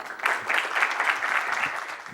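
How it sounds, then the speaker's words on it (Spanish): An audience at a Spanish-language medical course on sentinel lymph node in metastatic melanoma applauds steadily, a dense patter of clapping throughout at moderate distance. "les pido un aplauso para iniciar el curso"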